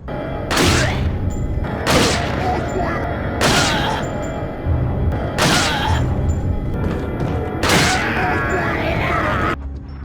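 Gunshots striking an enemy in the original Resident Evil 4 video game: five heavy, booming shots spaced about a second and a half apart, each with a short impact tail, while someone talks underneath.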